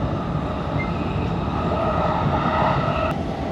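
An electric commuter train departing Wado Station in Japan rumbles along steadily, a dense rolling roar with a faint high whine from the wheels and motors.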